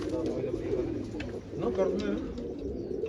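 Pigeons coo softly and repeatedly close by, their low throaty calls rolling under steady background noise with someone talking nearby.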